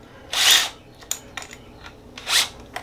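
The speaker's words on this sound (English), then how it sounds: "You gotta use a Festool drill to assemble the Festool." A Festool power drill driving screws while assembling a Festool MW1000 mobile workstation gives two short whirring bursts separated by a pause, with a few sharp clicks and taps of handling in between.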